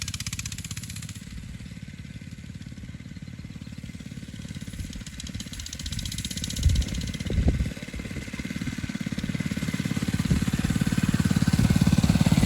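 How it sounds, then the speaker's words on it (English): Two motorbikes running on a farm in spring, a steady low engine rumble with a couple of brief revving bursts midway, growing slightly louder toward the end, with no voices. "We got both motorbikes up and running"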